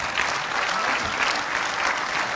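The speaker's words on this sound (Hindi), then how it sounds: "तालियां बजती रहनी चाहिए" Sustained audience applause at a formal event, a dense, steady wash of many hands clapping with no break, fairly loud and close.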